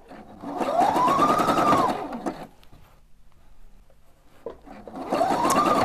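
A Husqvarna Opal 670 sewing machine stitches stretchy elastic fabric for a hat, running in two loud, steady bursts with a rising-falling motor whine, separated by a quieter pause of faint handling noises.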